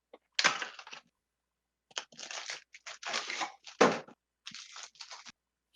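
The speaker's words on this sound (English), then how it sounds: "Shout out to all the crunching." Irregular crunching bursts from someone chewing or crushing something close to the mic during an online tabletop role-playing session, several short crackly clusters with brief silences between them and no talking.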